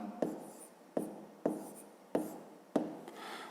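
Pen strokes on paper as a math exercise is worked by hand, five crisp scratchy bursts at roughly even intervals, close and clear against a quiet room.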